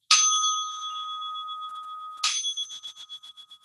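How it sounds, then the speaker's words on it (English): A cane-mounted bell from Amsterdam rings out twice, each strike bright and close with a long shimmering decay, the second followed by quick pulsing rattles as it fades. "she sounded the bell"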